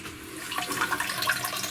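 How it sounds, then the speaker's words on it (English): A Japanese toilet bidet sprays warm water in a steady hissing jet, soft and close, with a faint bubbly splash running under it and no talk. "It's a warm bottom washer."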